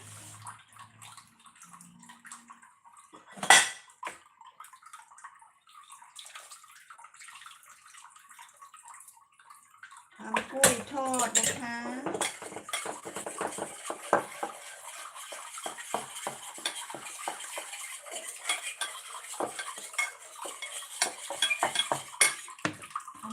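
Clinking utensils and dishes while batter is mixed for Thai fried bananas, with a sharp knock early on, then busy scraping, stirring and water sounds, close and irregular, with no talking.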